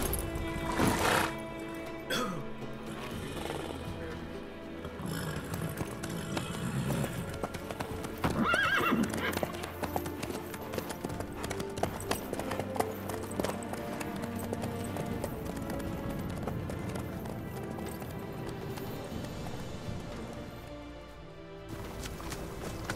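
Horse in The Witcher 3 clip-clopping at a steady pace with a loud whinny partway through, hooves continuing throughout amid game ambience and faint talk.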